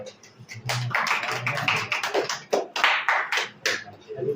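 About twenty students in a classroom clap in scattered, uneven bursts, close and lively, with a voice speaking partly over the applause.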